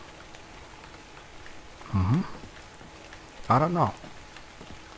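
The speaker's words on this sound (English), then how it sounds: "It starts raining again." Steady rain falls in the video game ARK Survival Evolved, a constant hiss filling the background while someone speaks briefly over it.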